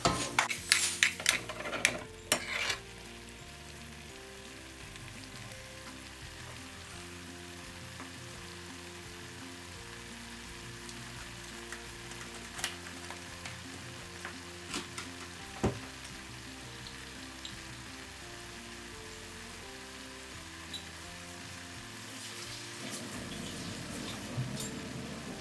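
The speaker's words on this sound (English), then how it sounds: "we're just going to let that reduce and cook the mushroom as well." Mushroom bhaji in an Indian restaurant style simmering and reducing in a covered pan, a soft steady sizzle and bubbling hiss throughout, with a few louder clatters at the start and occasional light clicks, no voices.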